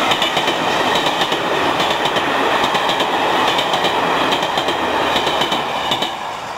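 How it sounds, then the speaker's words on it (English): The Flying Scotsman steam locomotive goes past at a bridge with a loud, steady rumble and rhythmic clicking from its wheels on the rails. No voices. "a very special visitor passed by. None other than the Flying Scotsman."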